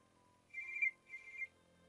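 A telephone rings twice in short electronic bursts, clear and fairly close, in an otherwise quiet room.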